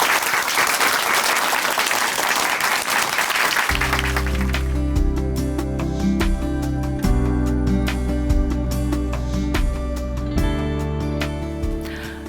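Audience applause at a church testimony program from Chuncheon Hanmaum Church, sustained dense clapping for several seconds that gives way to loud, steady instrumental music with a deep bass line.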